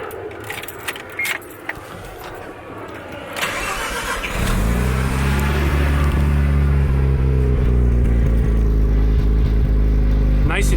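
Mazda RX-7 FD rotary engine, with keys jangling, then a starter crank and catch into a loud, bassy idle that holds steady with light revs; voices are heard faintly early on.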